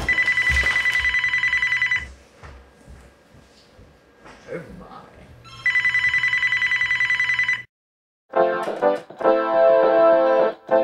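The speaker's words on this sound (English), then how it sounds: "the phone's ringing" A telephone rings in loud electronic bursts with breaks between them, and voices speak through the gaps, with a short silence before the final ring.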